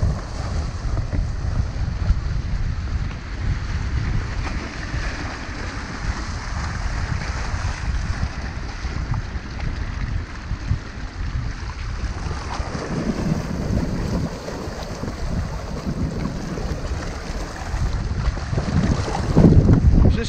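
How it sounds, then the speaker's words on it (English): Wind and choppy waves on Lake Balaton at Siófok, Hungary, a steady rushing roar with buffeting mic wind throughout, no talk. "There's a few waves going on today."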